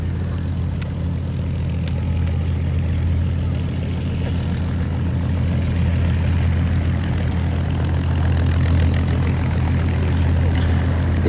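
A Bristol propeller aircraft from the early World War II era flies past at an airshow, its engine drone steady and fairly loud throughout, with a low rumbling hum and no break in the sound.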